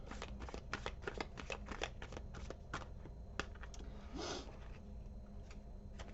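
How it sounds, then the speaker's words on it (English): Enchanted Map oracle cards being shuffled and pulled, a close, quiet run of rapid papery flicks and riffles, then a soft slide and a few light taps as a card comes out. "Let's pull an Enchanted map card for you."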